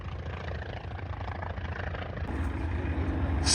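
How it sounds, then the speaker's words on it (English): A Corsair warbird propeller plane flying past at a naval aircraft display, a steady rough engine drone that grows gradually louder as it approaches, with no talking. "And Alec coming back around again with that beautiful Corsair"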